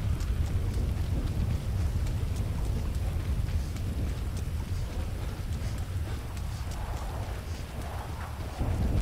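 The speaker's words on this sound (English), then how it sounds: "Wow, the lightning and the thunder, you can really hear it." Low, continuous rumbling of thunder mixed with wind and steady rain-like noise, persisting for the whole stretch without a break, in the video game Grand Theft Auto 5.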